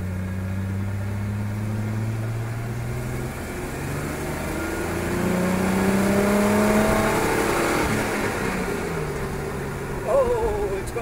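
A GM 110 V6 Vortec engine on its very first run idles, then revs up in rising and falling sweeps, running loud and close while people talk over it.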